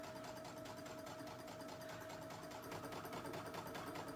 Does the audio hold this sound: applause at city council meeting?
no